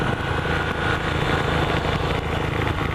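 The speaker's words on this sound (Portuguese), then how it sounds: "tanto de moto vindo lá atrás, mano" Motorcycle engines running on a street at night in Barra Bonita, a steady close rumble of several bikes idling and revving together, loud and continuous with no talk.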